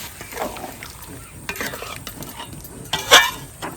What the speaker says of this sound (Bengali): এবার একটু হালকা জল দিয়ে দিচ্ছি